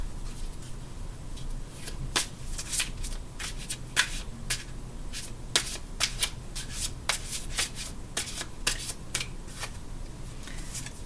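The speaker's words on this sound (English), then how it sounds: "Now I'm gonna grab a shadow card." Tarot cards are shuffled by hand close up, giving a quick, continuous run of crisp riffling snaps with no voice over them.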